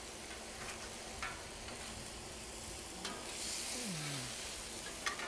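A smash burger frying on a hot griddle gives off a soft, steady sizzle with faint crackles and a few light ticks, fairly quiet and without voices.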